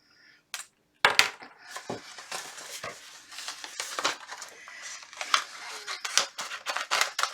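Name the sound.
scissors cutting vinyl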